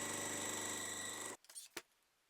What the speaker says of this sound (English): I'm just going to come around here on the opposite side and sew another piece to the corner